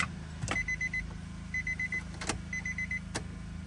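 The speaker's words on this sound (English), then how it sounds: "Oh, the pump came on." A fuel pump primes in an abandoned Nissan 350Z with 69,000 miles and a full tank, short whirring buzz bursts repeating about once a second between sharp clicks, close and steady.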